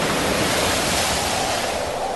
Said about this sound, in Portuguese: começou a soprar um vento muito forte e as ondas arrebentavam com tanta força em cima do barco